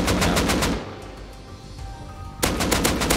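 Rapid automatic gunfire in the survival game Rust, loud and close, with a burst of repeated shots, a lull of about a second and a half, then another sustained burst.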